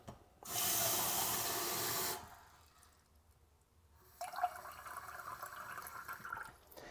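Water runs steadily into the base of an old moka pot for about two seconds, fairly close and alone, then after a quiet gap a lighter trickling, clattery pour follows.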